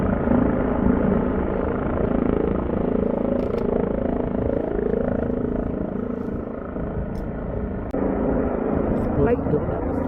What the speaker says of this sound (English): I don't understand why is it the helicopter in the air?